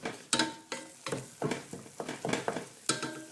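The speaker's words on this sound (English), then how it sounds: "You just want to let it simmer away for another couple of minutes." Buttery cinnamon apple pie filling bubbles in a pan while a spoon stirs it, giving a series of close, uneven scraping and splattering bursts with no voices.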